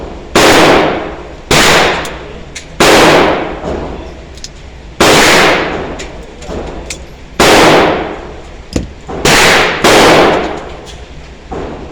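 Beretta 1935 pistol fired outdoors, about eight sharp loud shots spaced roughly a second or two apart, each with a short decaying echo tail and a steady breezy background between them.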